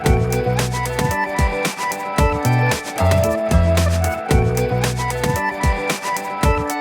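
Synth melody run through iZotope Iris 2, a guitar amp and LFO Tool, playing a looping phrase with steady bass notes and rhythmic pulsing chords, loud and dense with no voices.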